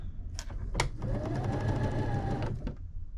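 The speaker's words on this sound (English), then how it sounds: "And then I can chain sew these together." A sewing machine chain-sews quilt pieces for an oversized baby quilt, a short whirring run of rapid needle stitching preceded by a couple of clicks, close and fairly loud.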